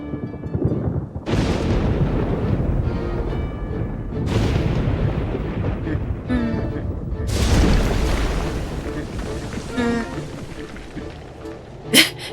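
Deep booming explosions in Pokemon Pokopia rumble out one after another, loud and rolling like thunder. A speaking voice comes through between the blasts, and a sharp bang lands near the end.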